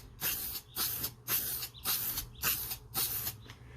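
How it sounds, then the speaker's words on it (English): Shaken aerosol spray paint can fired in six short test bursts, each a sharp hissing spray with brief pauses between, close and fairly loud, no speech, before a light tack coat on a 350z diffuser. "with our can all shaken up for 1 minute like you're supposed to do, I'm going to do a test shot over here"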